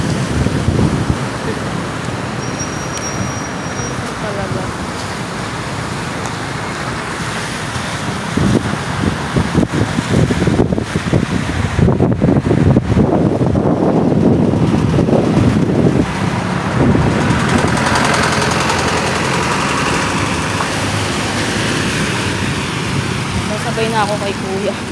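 Strong typhoon wind buffets the microphone in General Trias, Cavite, with flood water sloshing and surging beneath it, steady and loud throughout and growing rougher near the middle; voices speak over it.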